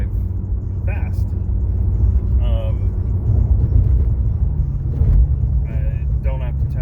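A fast car's engine rumbles steadily while driving, a constant low drone under intermittent talking throughout.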